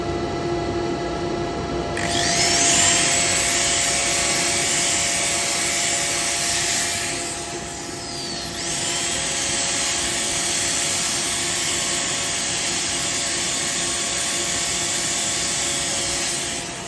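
Wooden bowl spinning on a woodturning lathe as sandpaper is held against it, a steady motor hum with a louder hissing sanding rasp that starts, briefly drops, then continues.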